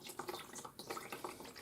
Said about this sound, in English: pour slowly so you're not going to disturb it too much